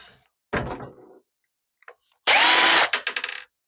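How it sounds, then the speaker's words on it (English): A power drill whirs in short bursts while backing screws out of a Dell Inspiron 3847 desktop case, first a brief buzz, then a longer loud spin ending in quick stuttering pulses. "Let's get the screws out of this one."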